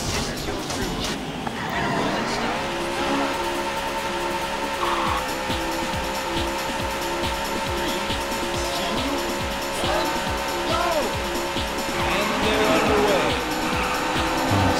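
Race car engines from the Xbox One X game Trackmania Turbo rev and whine steadily with rising pitch sweeps, tire squeal and skidding mixed in, loud and continuous throughout, with a voice talking over the top.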